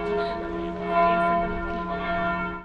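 A church bell rings at noon in a steady, resonant toll with a sustained humming tone and overlapping strikes, loud and close throughout with no talk.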